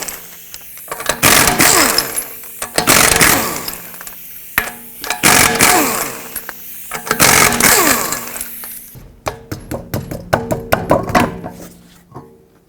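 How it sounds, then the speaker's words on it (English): Lug nuts on a 2009-2015 Toyota Prius rear wheel are removed with a power tool and a 21mm socket in several loud, near bursts of buzzing rattle, ending in quicker, choppier short spins. "with a 21mm socket, remove all 5 of your lug nuts and then remove the wheel"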